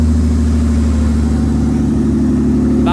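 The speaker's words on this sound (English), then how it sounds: "That is as smooth as I have ever heard this engine purr." A Ford Mondeo ST200 engine idles smoothly and steadily nearby, a continuous low even hum with no revving and no voices.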